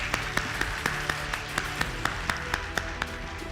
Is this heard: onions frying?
no